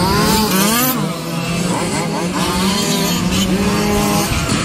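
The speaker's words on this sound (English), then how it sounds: "We are here racing fifth scale at Wagner Park." Fifth-scale RC race cars lapping a track at Wagner Park, loud whining engines rising and falling in pitch as several cars pass close by, with a constant buzzing roar throughout.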